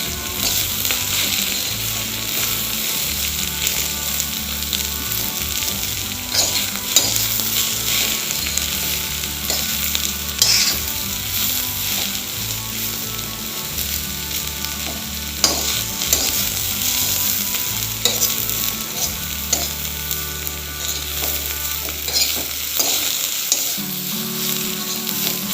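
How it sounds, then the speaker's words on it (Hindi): Radish leaf bhujiya stir-fried in a pan over a medium-high flame, giving a steady, dense sizzle with the scrape of stirring all the way through and no voices. "बस मैं इसे थोड़ा सा भून रही हूँ जिससे कि इसका टेस्ट थोड़ा सा और ज़्यादा अच्छा हो जाएगा"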